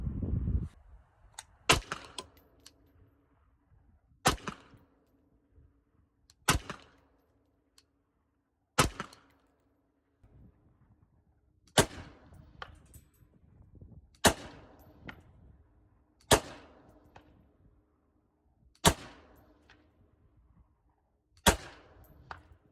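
Rifle shots fired at a target 200 yards out, roughly ten sharp, loud cracks spaced a couple of seconds apart with brief decaying tails and quiet between them, no talking.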